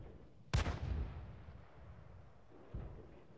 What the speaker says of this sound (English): How did artillery hit there?